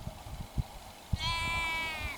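A sheep on the Isle of Bute gives one long, wavering bleat after a few soft thumps and rustles, fairly close and clear outdoors.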